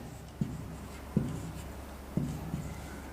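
A marker writes on a board during a genetics lecture, giving three or four distinct squeaky taps and short strokes spaced across a few seconds over a quiet room hum, with no speech.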